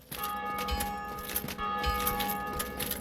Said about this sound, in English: It's 1 in the morning and people are still ringing the bell.